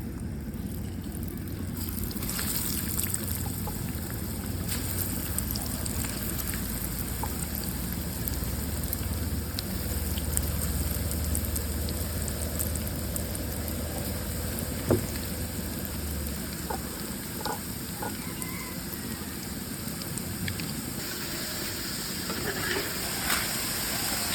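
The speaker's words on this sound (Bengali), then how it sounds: "তেল গরম হয়ে গেছে, এখন আমি ফ্রেঞ্চ ফ্রাইগুলো দিয়ে দেবো।" French fries fry in hot oil in a pan, giving a continuous, even sizzling hiss with scattered pops and crackles that holds steady throughout.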